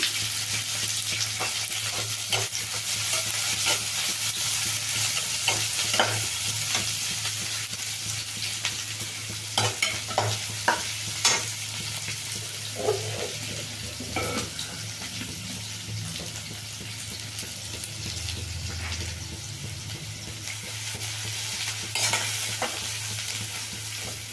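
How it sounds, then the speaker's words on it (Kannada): Chopped onions fry in a pan for village-style horse gram saaru, a steady close sizzle running throughout with repeated scraping and clicking stirring strokes on top; no voices. "ಈಗ ಈರುಳ್ಳಿ ಹೆಚ್ಚಿಟ್ಕೊಂಡಿದ್ದು ಹಾಕ್ತಾ ಇದ್ದೀನಿ"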